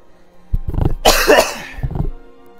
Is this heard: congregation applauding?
no